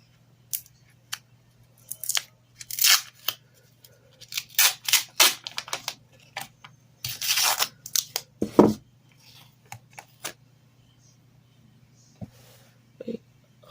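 Tape snipped with scissors while making a simple wire bracelet, a series of short, sharp cutting snips in scattered bursts over a steady low hum, close and fairly quiet with pauses between.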